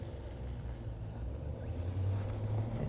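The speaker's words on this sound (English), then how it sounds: "It just did a kick down in the gear there" A 2024 RAM 1500 pickup climbs off-road, its engine giving a low steady rumble that deepens and swells toward the end as the gearbox kicks down.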